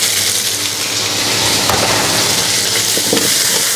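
Seafood hits a wok of golden fried garlic, sizzling loudly and steadily with occasional clinks and stirring scrapes over the continuous frying hiss.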